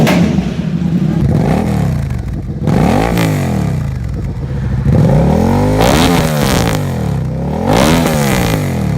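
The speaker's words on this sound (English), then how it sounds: "they have a reputation for being some of the loudest exhaust systems you can buy" A sportbike's aftermarket exhaust revs loudly and repeatedly, each blip rising sharply and falling back to a rough, crackling idle, close up.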